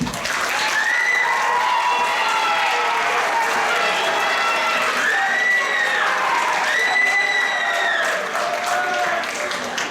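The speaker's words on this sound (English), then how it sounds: "I want to give them a round of applause." A theatre audience at a student musical production of Hello Dolly applauds the student pit orchestra, sustained loud clapping with cheers and whoops rising through it.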